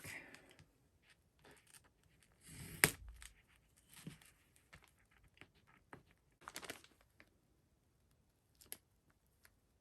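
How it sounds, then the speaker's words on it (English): Paper backing peeled off a fabric appliqué for a ballerina raw-edge wall quilt, giving soft crinkling and rustling in short bursts, with one louder tearing rustle early and quiet gaps between. "I'm going to go ahead and peel the paper off the back"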